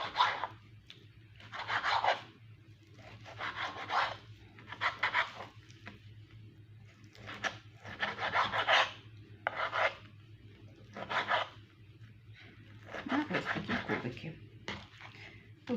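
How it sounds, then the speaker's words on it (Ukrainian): A knife cuts meat into cubes for stewed potatoes, producing a steady series of about a dozen close, rasping strokes with brief pauses between them over a faint low hum. "я поріжу м'ясо на кубики"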